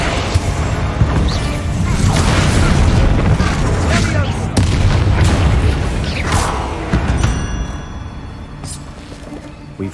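Confringo and Bombarda spell explosions in the Hogwarts Legacy video game, a dense run of booming blasts and crashes with sharp impacts over a rumbling low end, loud throughout and easing toward the end.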